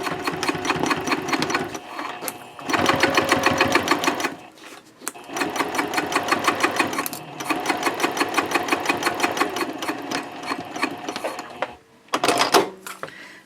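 A sewing machine stitches Cordura fabric for a wallet seam at 3/8 inch with a 3.0 stitch length, running in several loud, rapid bursts separated by brief pauses, close by.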